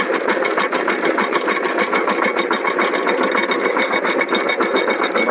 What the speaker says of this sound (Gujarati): આવ્યું છે ટ્રેક્ટર